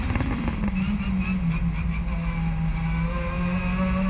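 A Tom Coronel WTCC 2017 race car at full throttle on the Nordschleife, its engine roaring loud and close from onboard, pitch climbing steadily through the gear with wind and road rumble beneath.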